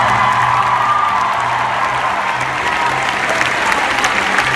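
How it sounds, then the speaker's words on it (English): Steady, loud audience applause fills the room for nuns just brought up on stage, sustained clapping with a few faint whoops and crowd murmur throughout. "can we give them another round of applause?"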